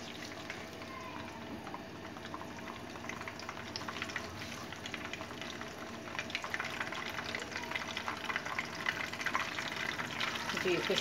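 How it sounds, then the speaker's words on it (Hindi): Mustard seeds and fenugreek seeds roasting in a hot pan, a busy crackling, frying hiss that grows slightly louder over time with faint stirring. "राई को अब मैं एक साइड पे रख के जरा भून लेती हूँ"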